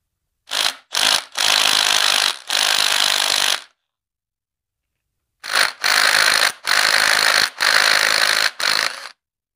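A Milwaukee M18 cordless power tool runs in several loud bursts of whirring and rattling while backing a bolt out of a Copeland compressor, with a pause of silence midway before another run of bursts.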